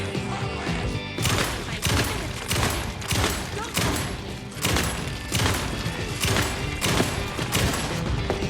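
Rapid shotgun blasts in Alan Wake 2, loud repeated booming shots in a steady rhythm roughly every half second over dense game noise, with a voice speaking under the gunfire.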